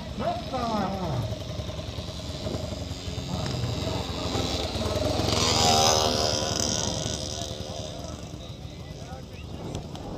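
Motocross motorcycles roar and whine nearby during a velocross race, rising and falling as bikes pass, under continuous Portuguese talk over a loudspeaker.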